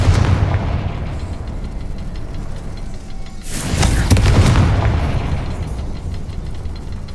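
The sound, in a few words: Confringo spell explosions in the video game Hogwarts Legacy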